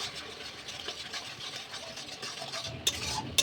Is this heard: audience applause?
no